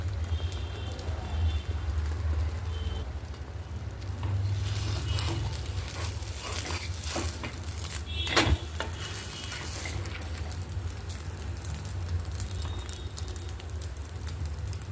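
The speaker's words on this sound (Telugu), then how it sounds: "ఆమ్లెట్ వేస్తున్నాను." Egg omelet sizzling and frying in oil on a pan, a steady crackling hiss that continues throughout with occasional soft stirring or scraping clatter, close and moderately loud.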